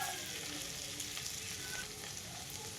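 Chopped garlic sizzles steadily in hot butter, a continuous close crackle and hiss with no talk.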